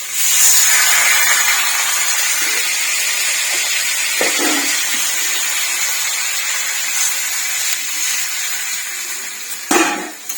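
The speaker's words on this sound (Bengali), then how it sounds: "জল ঢেলে দিচ্ছি" Water poured into a pan of hot frying spice mix for a Bengali rohu fish curry: a loud, steady steamy sizzle and hiss running throughout, with a few clinks and a short burst of bubbling near the end.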